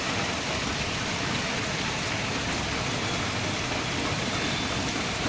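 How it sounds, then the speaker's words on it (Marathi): Heavy rain pours down in a dense, unbroken roar, loud and continuous throughout with no voices over it. "कसला जोरात पाऊस यायला लागलाय बघ. बापरे, जोरात आहे पाऊस."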